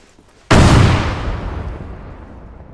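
A frag grenade goes off in a military video game: one sudden, loud blast whose low, rumbling tail fades slowly over the next two seconds.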